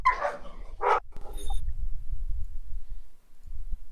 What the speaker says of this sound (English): Angry dog.